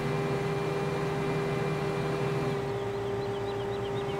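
Corn-chopping harvester working a field in Farming Simulator 15, a steady droning engine hum with constant broadband machine noise throughout, shifting slightly in tone partway through.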